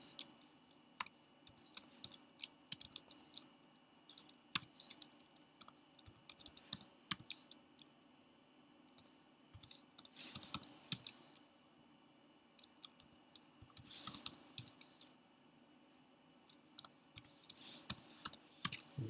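Quiet, steady clicking of keys on a computer keyboard as numeric values are entered and Enter is pressed, in scattered bursts over a soft background hum.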